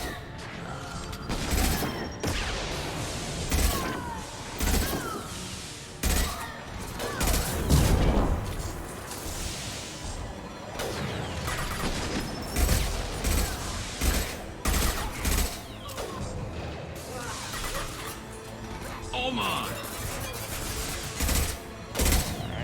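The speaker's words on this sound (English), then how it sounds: "This is so much fun to just sit here and watch them shoot each other." Sustained gunfire exchange in Mass Effect 2, with dense bursts of shots and impacts from several weapons firing back and forth, loud and near, with crashes and mechanical clatter between volleys.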